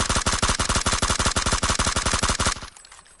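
A rapid automatic burst of gunfire in PUBG played on console, dozens of evenly spaced loud shots for about two and a half seconds, then stopping abruptly with a faint tail.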